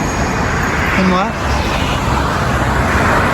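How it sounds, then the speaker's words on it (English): Dense road traffic near Entebbe, Uganda, on the way toward Kampala, a loud continuous roar of passing vehicles close by, with a voice speaking briefly over it. "lots of traffic in here"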